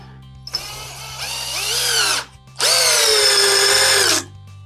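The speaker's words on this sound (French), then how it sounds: "Il faut la faire rentrer la vis, surtout si vous avez du parquet" A power drill drives a screw into wooden parquet while building a cheap piece of furniture: two loud, close whining bursts with rising pitch, the second longer and steadier, separated by a brief pause.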